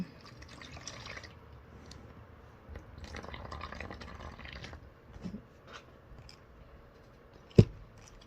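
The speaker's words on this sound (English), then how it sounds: "I'm gonna pour a little water in it" Water trickles and pours in short bursts into a container, quiet and close, ending with a single sharp knock.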